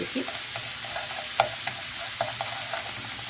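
Mashed meat being stirred with onions and carrots in a hot pan, a soft continuous sizzle broken by repeated spoon scrapes and light knocks against the pan, close and without talk.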